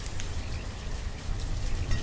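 Steady rain falls in the city-building game Banished, a dense, even patter of drops at moderate level with scattered brighter taps, continuous throughout without speech.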